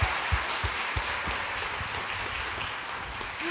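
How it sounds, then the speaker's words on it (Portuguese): A crowd applauding steadily during a Catholic Mass, a dense wash of clapping with a few louder claps standing out, no talking over it. "Pode aplaudir, pode aplaudir, pode aplaudir."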